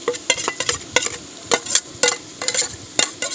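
Ginger and garlic paste stirred in a hot pan while making masala bonda, with a close, rhythmic series of scraping strokes over a soft sizzle and no talking.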